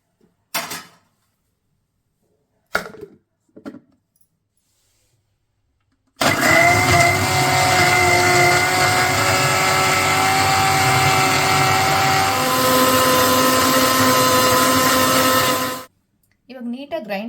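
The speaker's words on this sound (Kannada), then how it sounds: "ಇವಾಗ ಗ್ರೈಂಡ್ ಮಾಡ್ಕೊಳ್ಳೋಣ." A kitchen mixer grinder blends ABC juice ingredients (apple, beetroot, carrot) with water and salt, a loud steady whirring roar running about ten seconds before cutting off, preceded by a few short clunks of the jar and lid.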